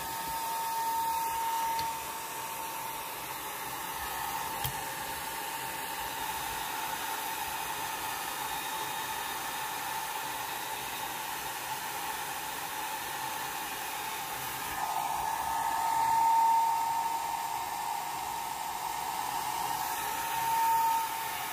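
A hair dryer blows steadily on an alcohol ink flower painting, a loud continuous close whoosh with a faint high whine that holds for the full stretch and rises briefly near the end, with no talk.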